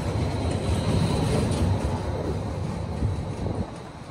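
A Portland streetcar rolls past downtown, a steady loud rumble of wheels on rail with faint clatter that holds for about four seconds and eases slightly near the end. No voices are heard.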